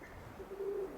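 A roller pigeon gives a soft, low coo, a single short murmur heard close against quiet outdoor background on Christmas Day.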